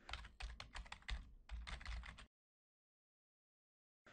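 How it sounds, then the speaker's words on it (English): Keywords typed on a computer keyboard, a quick run of close, crisp key clicks in two bursts separated by a brief pause, then silence with one last tap at the end. "and then I type a few keywords."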